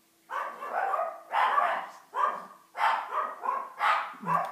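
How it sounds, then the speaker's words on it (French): A dog barks repeatedly indoors, around seven or eight sharp, fairly loud barks in an uneven rhythm, close by and with no talking over them. "Mon chien qui aboie."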